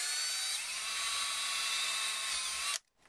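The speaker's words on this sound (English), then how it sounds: "We're going to drill, using a 9/64 inch drill bit, we're going to drill a hole in our controller down where our trigger finger would be." Power drill with a 9/64 inch bit boring a hole through the plastic shell of an Xbox 360 controller near the trigger, a steady high whine held close and loud for nearly three seconds before cutting off abruptly.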